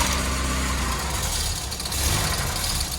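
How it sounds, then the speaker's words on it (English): A barn-find MK1 VW Golf GTI four-cylinder engine runs steadily after starting, a close, loud, even idle rumble with no revving and no talking. "when you initially first turn the key, I'm going to do it now on camera. You will hear it fires up, runs perfect on 4 cylinders."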